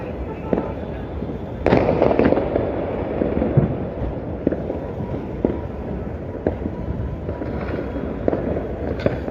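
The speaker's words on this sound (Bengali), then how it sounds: "বিভিন্ন ধরনের আতসবাজি ফোটানোর দৃশ্য আমরা এই মুহূর্তে দেখছি" Repeated fireworks bursts and crackling pops echo across Dhaka on New Year's Eve, with a dense volley near the start and scattered bangs following over steady background noise.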